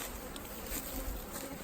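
Honeybees buzz steadily around a queen cage plugged with candy during a summer hive split, a continuous close insect drone with no talking.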